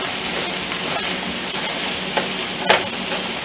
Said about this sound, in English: So we're going to stir these all in.